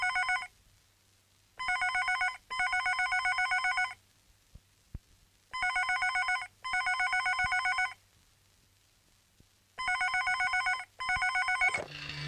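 A telephone rings in repeated double bursts, three pairs of shrill electronic trills separated by quiet pauses, loud and close.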